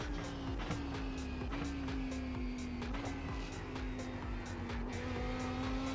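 GT3 race cars at Sebring in the iRacing sim, steady droning engine note with shifting pitch through a hard corner, tire squeal and skidding over a constant loud roar, no talk.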